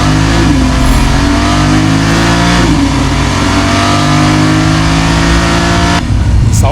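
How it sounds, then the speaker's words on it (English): A Porsche 911 Turbo S engine revs loudly and close up, its pitch climbing through rising and falling sweeps before a sharp change near the end, with talk underneath. "Do you want to see the engine in action?"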